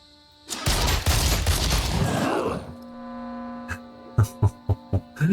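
Gunfire in the Phoenix Point video game: a loud, dense burst of rapid automatic shots for about two seconds, then a low hum and a series of separate heavy shots or impacts spaced evenly near the end.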